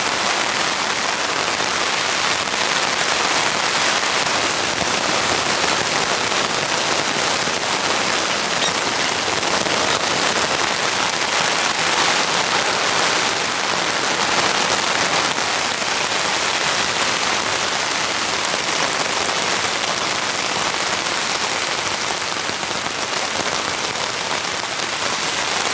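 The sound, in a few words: heavy torrential rain while solo camping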